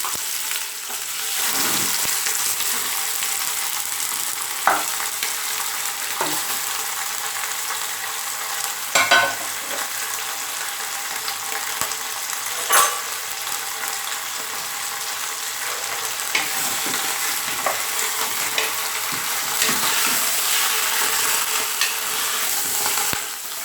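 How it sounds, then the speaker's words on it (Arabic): Meat frying in olive oil in a pot for a Moroccan mrouzia dish, a steady close sizzle with occasional stirring clinks and scrapes throughout. "درت زيت الزيتون، دابا غادي ندير اللحم."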